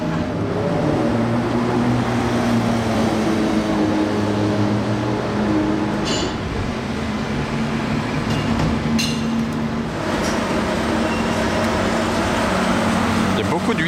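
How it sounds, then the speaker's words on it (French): A Ferrari 812 GTS with a Novitec exhaust drones deep and resonant as it cruises on fresh tarmac in Monaco, a steady low rumble that stays loud and close for the whole stretch, with a voice talking over it. "La résonance de l'échappement Novitec, c'est quelque chose."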